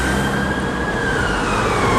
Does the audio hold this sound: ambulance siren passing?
yes